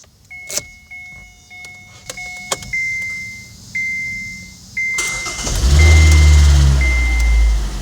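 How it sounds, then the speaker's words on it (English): Several electronic beeps and clicks, then a freshly rebuilt Kia car engine cranks and catches, settling into a loud, steady run. "The engine runs great, it sounds great"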